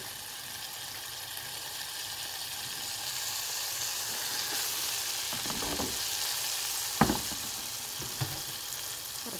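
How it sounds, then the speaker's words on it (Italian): Oil sizzles and crackles steadily as large squid pieces deep-fry, with a few louder pops and clinks of a utensil stirring the pan. "con un pochino d'olio sto friggendo tutta questa roba"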